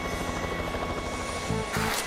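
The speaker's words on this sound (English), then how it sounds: "Yes, the helicopter's here, Helen." A cartoon helicopter flying, its steady rhythmic rotor chop and engine drone close and continuous, swelling slightly toward the end.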